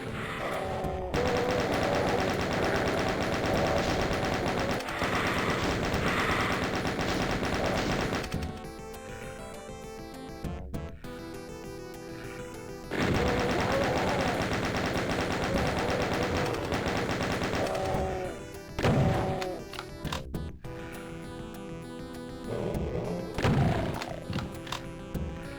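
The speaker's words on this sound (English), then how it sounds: "So many chain gunners." Chaingunner enemies in Doom, played in Crispy Doom, spray loud rapid chaingun fire in long sustained bursts, broken by short pauses and scattered thuds and crashes.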